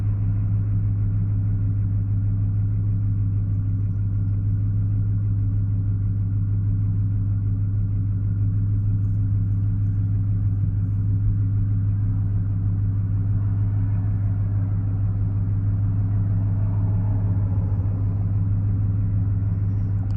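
A 2005 Ford F-150 pickup with a 5.4L engine, fitted with a new fuel pump and fuel pump driver module, idles steadily with a low, even rumble and hum that run unbroken at a constant level throughout, with no talk over it.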